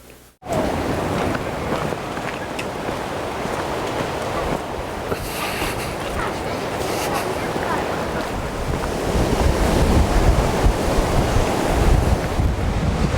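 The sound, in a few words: ocean waves on a beach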